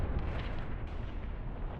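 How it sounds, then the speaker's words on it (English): A loud, dense explosion in a World War II-style war game on the Mius Front roars and rumbles continuously with deep booming low end. "Nice explosion there."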